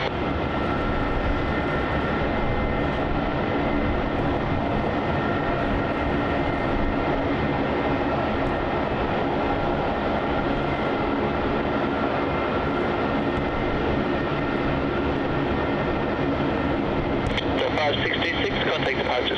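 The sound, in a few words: Jetstar Airbus A320-200 taking off on runway 27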